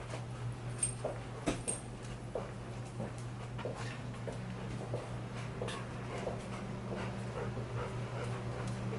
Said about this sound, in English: Warehouse dog.